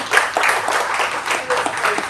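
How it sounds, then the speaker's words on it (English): An audience at an advertising talk event applauds, a dense continuous patter of many hands clapping, fairly loud and close, sustained for the whole couple of seconds. "One more round of applause for Adeep Puri,"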